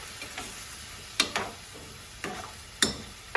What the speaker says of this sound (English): I'm gonna mix in the lemon juice and the caper juice right there